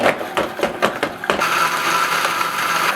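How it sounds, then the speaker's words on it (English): A kitchen blender whirs through frozen cauliflower smoothie ingredients without bananas or ice, first chopping in a few rattling bursts, then settling into a steady, even blending drone. "It's time to turn on the blender."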